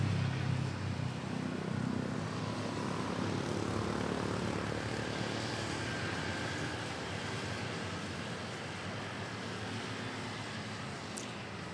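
A Cebu Pacific Airbus A320neo arriving at Manila Airport produces a broad, sustained jet engine roar, loud at first and slowly fading over several seconds, with no talking.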